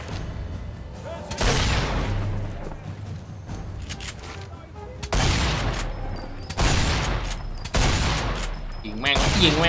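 Gunfire in the video game Sniper Elite 4 sounds as loud, close bursts of shots and booms that hit in several separate volleys, while someone talks between and over them.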